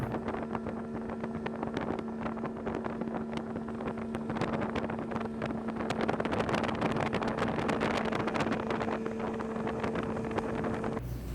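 A motorboat travels steadily, with a continuous droning engine hum blended with strong wind buffeting the microphone throughout.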